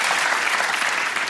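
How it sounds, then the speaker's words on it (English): A studio audience at a Bullseye game show claps in a dense, even burst of applause, loud and close, with no talking over it. "Round of applause, ladies and gentlemen."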